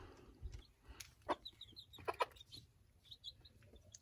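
Backyard farm chickens, a mother hen among them, give soft scattered clucks and short calls close by, with gaps of quiet between them and no talk.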